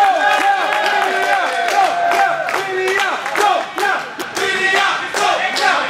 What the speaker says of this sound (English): He needs a cheer on. Cheer him on,